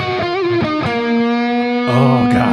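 Electric guitar with a thick, nasal, cupped midrange tone, playing sustained bent notes and a short phrase, loud and close with no talking.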